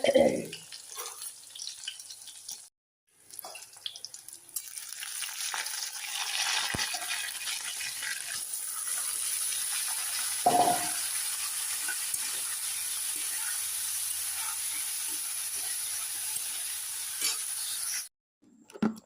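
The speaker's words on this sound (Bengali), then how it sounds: "একটু আপনার পেঁপে ভাজি বসাই কাটা নিচ্ছি পাঁচ ফোড়ন দিয়ে ভাজি" Cut papaya stir-fries with panch phoron in a long, even hiss of sizzling oil, with occasional stirring knocks and a short break near the start.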